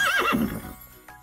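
A horse neighs once nearby, a loud wavering whinny that falls in pitch and fades out, with a faint knock at the end.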